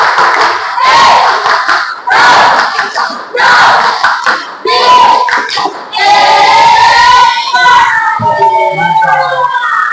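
Audience at an economics session performing a rhythmic group clap chant, loud bursts of clapping and shouted voices in repeated phrases, ending in a long sustained shout.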